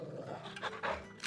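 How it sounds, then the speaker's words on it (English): A dog pants in Final Fantasy 16, played through a game controller speaker: quick, breathy huffs that come faint and close over a low background hum. "They also play the dog's panting sounds through the controller speaker"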